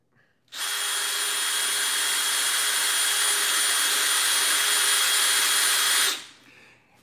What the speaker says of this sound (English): back to drilling the pumpkin